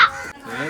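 A black chicken gives a brief, close cluck, a single short call lasting under a second.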